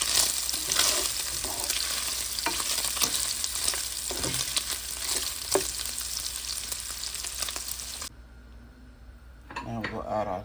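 Sausages fry in a pan for Cajun smothered cabbage, a steady dense crackling sizzle with small stirring scrapes that runs loud and close for about eight seconds, then drops to a quieter, thinner hiss.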